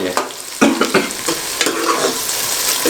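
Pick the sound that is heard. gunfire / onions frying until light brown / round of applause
onions frying until light brown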